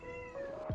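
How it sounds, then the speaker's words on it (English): A single short cat meow, close and clear, rising then falling in pitch. "Cat."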